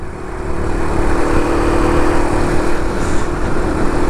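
A SYM Symba, a Honda Cub C90-style small motorcycle, riding through the countryside with a steady, buzzing engine drone and rushing wind that stays loud and even throughout.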